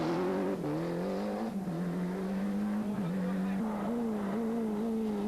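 A Ford Escort Cosworth rally car on a 1994 Belgian rally stage drives past loud and near, its engine holding a steady drone that rises and dips as the revs shift, with brief tyre scrubbing and a faint voice underneath.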